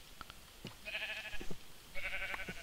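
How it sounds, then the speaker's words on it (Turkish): Sheep in a Minecraft-style survival game bleat twice in quick wavering calls, fairly faint, over a soft background with occasional clicks and no talk. "Aa koyunlar var aşağıda"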